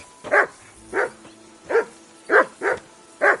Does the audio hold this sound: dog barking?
yes